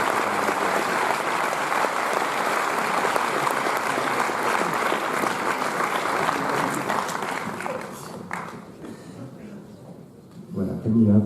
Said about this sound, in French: Voilà, Camilla peut l'applaudir.